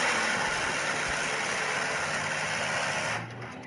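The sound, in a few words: AK-630M2 autocannon firing in War Thunder video game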